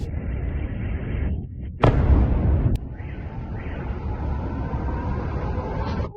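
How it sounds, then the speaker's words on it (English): A missile strike lands near a city under bombardment, a sudden heavy blast bursting out of a constant roar of wind-like rumble, then settling back into a steady distant din. "we're being bombed"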